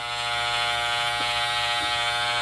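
Electric hair clippers with a number 3 guard buzz steadily up close, a constant motorized hum with a couple of faint soft catches, no voices.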